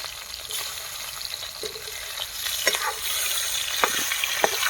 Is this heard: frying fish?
yes